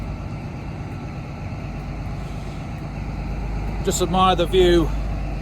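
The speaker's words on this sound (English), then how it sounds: "admire the sound of this engine once again" Steady low drone of the VP185 diesel engine on the Midland Pullman train, heard close up and continuous, with someone speaking briefly over it near the end.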